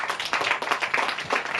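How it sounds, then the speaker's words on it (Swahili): A church congregation claps for itself during a service, a dense burst of many hands clapping briskly and evenly, close and loud, with no speech over it. "Hebu kwanza mjipigie makofi nyinyi wote mliokuja"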